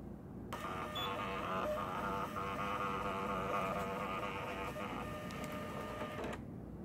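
A Criterion II urinalysis analyzer's built-in printer runs steadily for about six seconds, a continuous mechanical buzzing whir with a faint rhythmic clicking, starting and stopping abruptly, heard close and alone.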